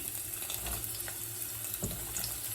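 Chopped garlic and onion frying in olive oil for lasagna give a soft, steady sizzle and crackle that stays faint and close throughout.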